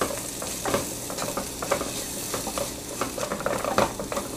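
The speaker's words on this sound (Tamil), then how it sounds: "கொத்தமல்லி பொடி எல்லாத்தையும் போட்டு நல்லா மிக்ஸ் பண்ணுங்கள்" Spoon stirring chilli powder, salt and coriander powder in a pan for Tamil fish curry, with repeated scraping strokes over a steady low sizzle, close and alone.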